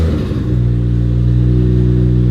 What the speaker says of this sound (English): when I start it up now, there's absolutely zero smoke and it idles fine